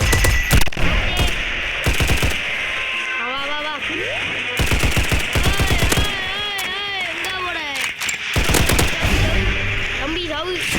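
Video game gunfire comes in repeated rapid automatic bursts and single sharp shots, loud and close, with an excited voice talking between and over the volleys.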